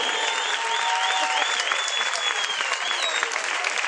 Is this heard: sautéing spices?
no